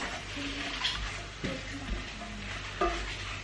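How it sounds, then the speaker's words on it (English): A pan of mixed ingredients frying and being stirred, a continuous moderate sizzle with occasional scrapes and utensil knocks. "I've just thrown everything into the pan."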